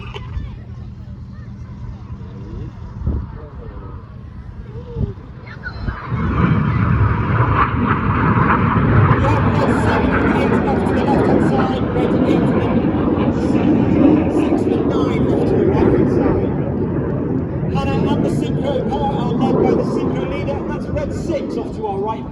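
A Hawk display jet from an aerobatic team roars overhead at an air show, its engine rising into a loud, sustained rumbling whoosh that swells and slowly fades, with a commentator and crowd chatter underneath.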